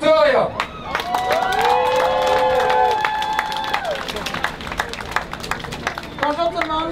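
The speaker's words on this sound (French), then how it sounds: "j'aimerais qu'on donne un tonnerre d'applaudissements à Victoria" A protest crowd claps and cheers for a speaker, steady applause with excited shouts and chatter mixed in, fairly close and loud, tapering toward the end as voices break through.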